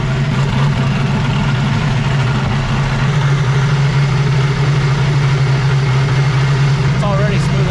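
A turbocharged LS V8 engine in a jet ski runs on a flush hose, idling steadily but a little rough with a strong low droning hum that continues without a break.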